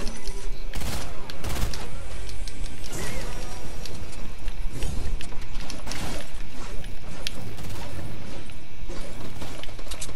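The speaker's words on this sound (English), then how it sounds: "So I'm going to be doing the Mythic drum gun only challenge." The Mythic Drum Gun fires in a video game as continuous rapid automatic fire, loud and near, with sharp peaks and mechanical clatter running without pause throughout.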